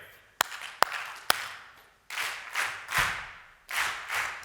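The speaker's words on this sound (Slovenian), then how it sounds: "najprej moramo zdaj ritem s ploskanjem" An audience at an awards ceremony claps in rhythm, three sharp single claps followed by swelling rounds of group clapping that rise and fade in a steady repeating pattern.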